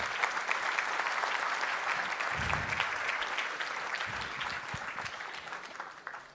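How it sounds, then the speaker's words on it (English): An audience gives steady, sustained applause for the authors at a book launch event, a full room clapping evenly for several seconds before it gradually thins out. "So I would request a huge round of applause for the authors."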